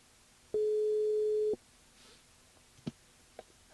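A single steady telephone ringing tone sounds during a radio call-in, loud and lasting about a second, followed by quiet with a few faint clicks.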